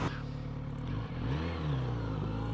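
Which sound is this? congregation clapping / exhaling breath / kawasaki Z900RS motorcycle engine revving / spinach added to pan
kawasaki Z900RS motorcycle engine revving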